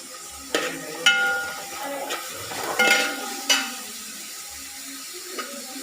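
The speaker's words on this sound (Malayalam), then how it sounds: "സവാള മല്ലിപ്പൊടി വാട്ടിയെടുക്കുന്നുണ്ട്." Onion and coriander powder sautéing in hot oil in a pan, a soft steady sizzle broken by several sharp scraping stirs of a spoon, close by with no talk.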